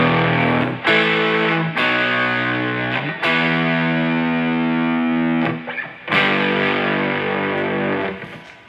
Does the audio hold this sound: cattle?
no